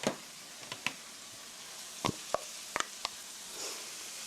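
Onions and chili powder stir-frying in a pan for mapo doufu make a soft, steady sizzle, broken by a handful of sharp spatula knocks and scrapes against the pan, with no voices.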